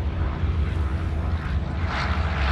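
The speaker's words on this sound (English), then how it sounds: "just taking off now the Bristol Fighter, Bristol F2B." A vintage Bristol F2B Fighter propeller biplane takes off at an air show, its engine a steady, loud drone that fills the short stretch without pause.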